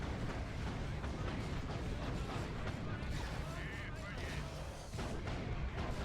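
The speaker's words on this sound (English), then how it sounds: "Venom cannon effects." Dense, rumbling barrage of heavy venom cannon fire in Dawn of War Retribution, booming continuously throughout with no pauses, a voice faintly audible beneath.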